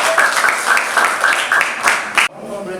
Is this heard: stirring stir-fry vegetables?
no